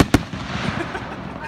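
Fireworks going off at a high school graduation, with one sharp loud bang near the start followed by a crackling, rumbling tail and scattered smaller pops under background voices.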